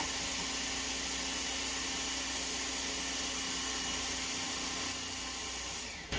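An electric mixer spins steadily while mixing almond shortcrust pastry dough, a constant whirring motor hum at moderate volume with no other sounds over it.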